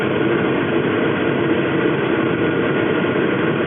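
A car engine held at steady revs around 2,000 rpm, a loud, continuous low rumbling drone with no change in pitch and no speech.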